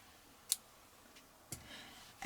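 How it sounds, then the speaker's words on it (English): Scissors snip through crochet yarn in a few brief, quiet clicks spaced over a couple of seconds, with a louder rustle of handling at the end. "Now cut the yarn"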